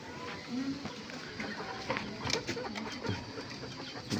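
Pigeons coo softly in a small coop housing a breeding pair, low rolling calls that come and go over a busy, rustling background with some faint voices.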